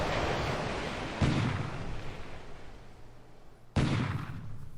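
Naval guns of 150 mm caliber in a Pacific war game fire two heavy booms a few seconds apart, each a sudden loud blast trailing into a long rushing, surf-like roar.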